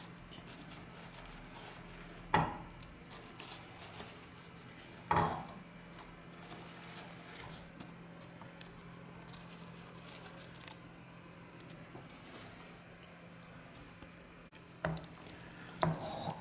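Meatballs go into a pan of tomato sauce, with a few distinct clanks of a utensil against the pan and softer scraping and stirring between them, close and without talk.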